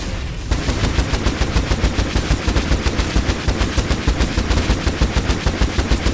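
Rapid automatic blaster-style gunfire from the video game Star Wars: The Old Republic rattles in a fast, even stream of loud close shots that keeps going without a break.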